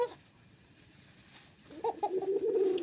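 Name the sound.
male pigeon cooing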